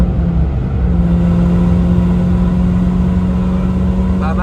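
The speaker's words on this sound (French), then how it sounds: "Ça fait rentrer un peu plus le son de l'échappement." Engine of a Mini car droning steadily at speed with exhaust note brought forward, a continuous loud mid-low hum and rumble throughout with no talk.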